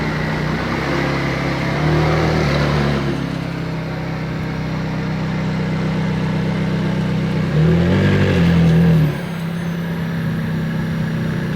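A rebuilt McLaren 675LT supercar idles loudly up close while being moved a few feet, its engine swelling into two brief revs before settling back to a steady rumble.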